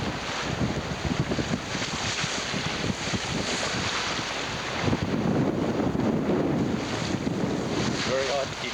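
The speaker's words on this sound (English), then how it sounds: "Our gallant little vessel is running downwind in force 6 waves, some of which roll by with great gusto and great sound." Force 6 waves roll and rush past a small sailing vessel running downwind during a 1992 regatta off Spain, mixed with heavy, continuous wind buffeting on the microphone and surging water swells.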